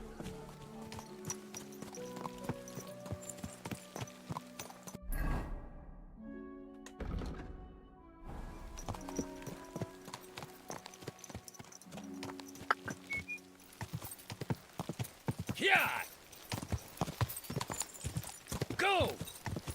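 Rapid, rhythmic hoofbeats of a galloping horse in the video game Kingdom Come: Deliverance II clatter steadily, pausing briefly, with a person talking over them.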